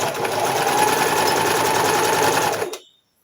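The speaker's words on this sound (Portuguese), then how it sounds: "colocar bem em cima da costurinha de baixo aqui e costurar" A sewing machine stitches a children's skirt of chita cotton fabric in one loud, steady run of rapid mechanical whirring, stopping abruptly near the end with no talk over it.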